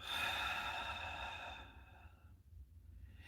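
A long, soft exhale during a slow breathing exercise, close and gentle, tapering off into near silence.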